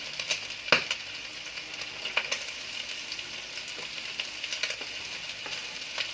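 Onions frying in a pan for adobo, a steady bright sizzle throughout with a few sharp crackles and spatters popping over it, close and continuous with no talking.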